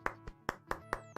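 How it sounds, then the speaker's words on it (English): A few slow, deliberate claps, evenly spaced and close by, the sparse polite clapping of a small group or one person. "Golf clap."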